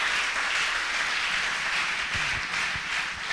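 A church congregation applauding, a steady and dense wash of many hands clapping together that fills the room, with some low rumbling underneath.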